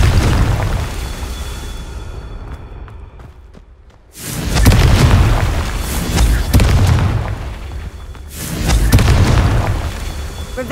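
In the video game Hogwarts Legacy, Confringo spell explosions go off as heavy booming blasts, one after another with rumbling tails and brief lulls between, loud and close.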